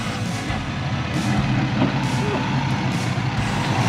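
A truck idles loudly nearby while pulling a trailer up at Dunefest 2024, a low steady engine rumble with three evenly spaced high reversing beeps sounding over it and faint voices in the background.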